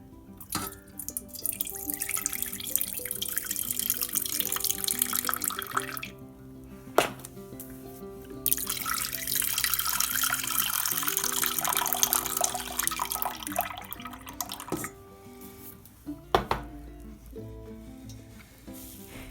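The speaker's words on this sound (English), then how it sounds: "I will drain these though." Cooking water poured off boiled potatoes, a steady hissing rush with drips and splashes that pauses and resumes over about twenty seconds, close and moderately loud with no talk.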